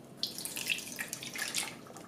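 Water pours and splashes into a small saucepan on medium heat with brown sugar for syrup, a quiet, close trickle lasting a couple of seconds.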